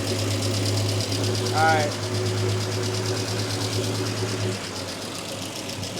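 An abandoned 1946 Chevy 2-ton truck engine idles steadily with a low, even drone and faint knocking, running close by while someone speaks briefly over it.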